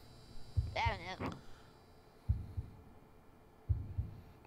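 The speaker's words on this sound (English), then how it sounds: "What is that heartbeat?" A slow heartbeat in the Backrooms video game sounds as three low, muffled double thumps spaced well apart, with a brief voice early on.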